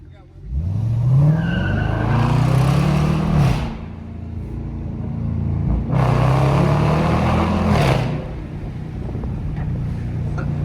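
A Dodge Charger R/T engine revs hard and climbs in pitch twice, each burst of acceleration loud and close, with road and wind noise between.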